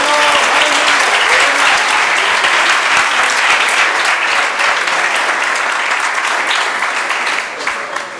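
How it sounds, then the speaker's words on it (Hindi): A church congregation claps loudly for Jesus during a worship sermon, a thick, continuous wave of applause that holds steady before tapering slightly near the end. "आई एम यीशु के लिए जोरदार तालियां बजाएं."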